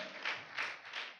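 A church congregation claps in three short bursts of applause, soft and somewhat distant, with brief pauses between them.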